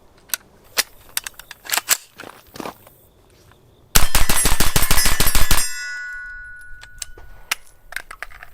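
Shots from a PSA AR-V 9mm carbine with a 10.5-inch barrel: a few sharp single reports, then a fast string of loud, closely spaced shots followed by ringing, then more scattered single shots and clinks outdoors.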